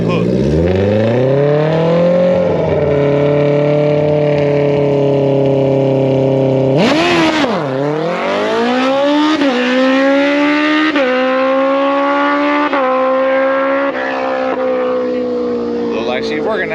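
Jason Young's drag racing motorcycle roars loud and close, a steady high engine drone that cuts out briefly, then climbs again through several rising gear pulls as it launches down the drag strip at the track.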